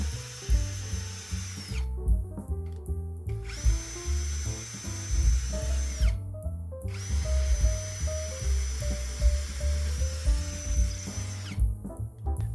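An OSUKA cordless drill whines through thick wood in several long bursts separated by short pauses, the motor pitch rising and easing with each pass.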